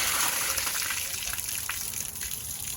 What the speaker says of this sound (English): we had clear water coming out until the very end, and it knocked some rust out